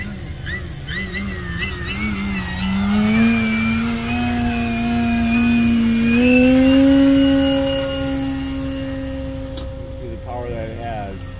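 A Flex Innovations Cap 232EX 60E electric RC aerobatic plane with a wooden prop flies a 3D demo, its motor buzzing with a strong tonal drone that rises and falls in pitch as it maneuvers, moderately close and steady throughout.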